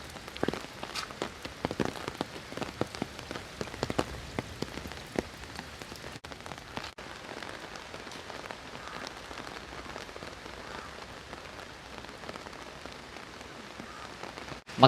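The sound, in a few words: heavy rain at Thangassery, Kollam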